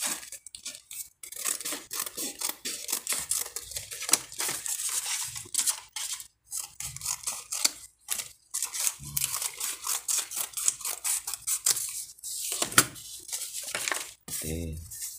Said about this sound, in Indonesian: Potong saja ya dengan menggunakan gunting.